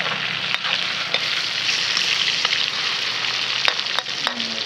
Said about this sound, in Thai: เจียวกระเทียมเจียวมะเขือเทศนะครับ